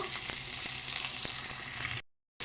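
Chopped onion pieces and curry leaves fry in a little oil in a pan, giving a steady close sizzle with occasional soft stir clicks, then breaking off into a brief silence near the end.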